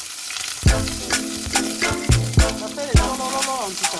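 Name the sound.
onions browning in a hot pan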